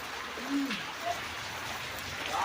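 Rain falls steadily in a rural village setting as a continuous soft hiss, with faint bird coos in the background.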